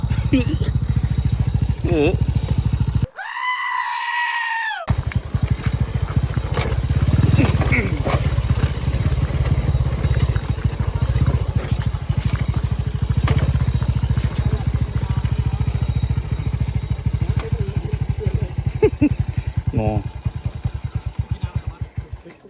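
A Honda Wave100 motorcycle rides up a forest road on Phu Sing mountain, its engine droning loudly and steadily up close, with wind buffeting and people talking over it.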